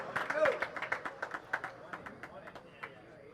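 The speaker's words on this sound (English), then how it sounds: "gets a round of applause too from the crowd" A tennis crowd claps after a point in a men's round-of-16 match, a brisk burst of many hands that starts loud and thins out over a few seconds.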